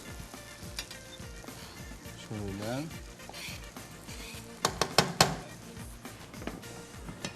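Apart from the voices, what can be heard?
onions sautéing in oil in pot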